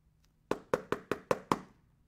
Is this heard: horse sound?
no